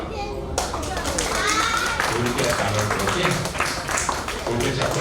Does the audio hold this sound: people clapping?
yes